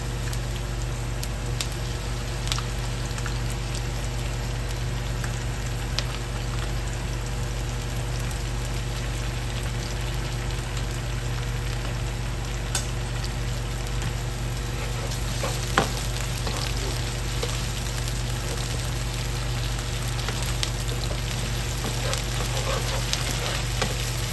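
Tomato paste sizzles and fries in a pan for a Kapampangan beef ribs asado, a steady dense crackle with light scraping and stirring throughout, no voices.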